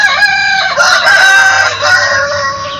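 A white rooster crows loudly and close by, one long drawn-out call with a shrill, wavering tone.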